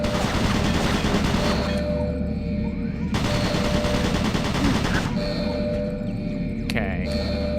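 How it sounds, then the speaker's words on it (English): Automated turret guns in Doom 3 firing long rapid bursts of gunfire in loud repeated volleys, cutting off and restarting several times over a heavy low rumble. "Automated turret guns online."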